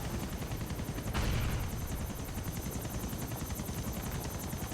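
Helicopter rotor chopping steadily throughout in a Grand Theft Auto IV shootout, with a rapid regular blade pulse and a brief louder burst of noise about a second in, likely gunfire or an explosion.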